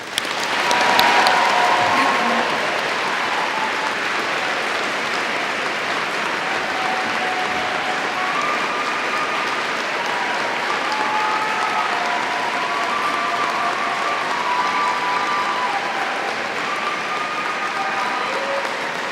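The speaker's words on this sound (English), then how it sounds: "Now please join me in applauding all those who are sharing in our success today" Sustained audience applause at a 2013 awards ceremony, a dense, even wash of clapping from a large crowd that starts abruptly, peaks early and holds steady throughout, with no talk over it.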